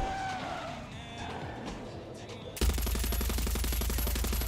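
Rapid automatic machine gun fire erupts in the Far Cry 6 video game after a stretch of vehicle noise, a dense, loud, evenly spaced burst that continues to the end.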